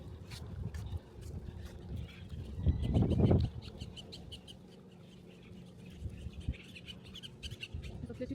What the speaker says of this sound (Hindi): सबसे अच्छी चीज़ें यहाँ पे हमेशा चिड़ियाओं की आवाज़ आती है।